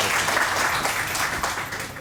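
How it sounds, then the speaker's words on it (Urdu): A studio audience on a Samaa morning talk show claps together, a dense, steady wash of applause that fills the whole moment at a fairly loud level. "آپ لوگ تالیاں بجا سکتے ہیں"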